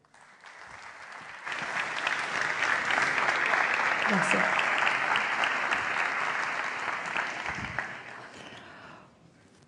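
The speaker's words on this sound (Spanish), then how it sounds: "Recibamos con un fuerte aplauso" Audience applause welcoming a speaker to the stage at a Spanish-language technology talk on social media, loud sustained clapping for several seconds after a brief announcement, fading at the end as a voice says a short thank-you.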